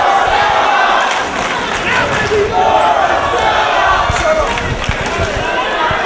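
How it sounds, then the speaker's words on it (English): Loud wrestling crowd at a Ring of Honor Do or Die event chanting at Dan, a dense roaring mass of voices filling the arena throughout. "And there you hear the crowd calling Dan a sellout"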